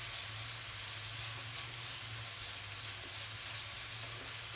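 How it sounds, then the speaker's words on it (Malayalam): Steady, loud sizzle of onion sautéing in a hot pan with crushed garlic and ginger, continuous frying hiss with no talking. "അതിലേക്ക് വെളുത്തുള്ളി ചതച്ചതും ഇഞ്ചി ചതച്ചതും ചേർത്ത് നന്നായിട്ട് ഇളക്കി കൊടുക്കുക."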